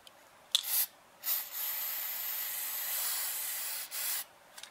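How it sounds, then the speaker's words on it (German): An old zinc spray can hisses onto a Simson moped mudguard in several short bursts, then one long sustained spray, close and loud with brief pauses between. "Ihr seht, die sprüht schon in alle Richtungen, nur nicht da, wo sie soll."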